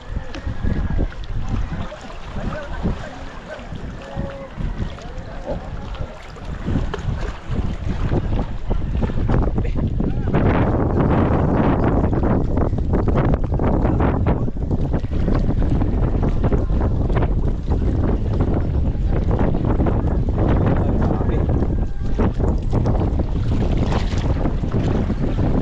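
Six boats out on open water, a loud, constant rumbling wash of engine and wind buffeting the microphone, with waves slapping throughout and faint voices in the background.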